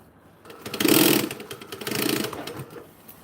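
A sewing machine stitches in two short bursts of rattling, clicking mechanical noise, the second slightly softer, close by with no talking.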